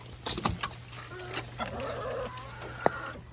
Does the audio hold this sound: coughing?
no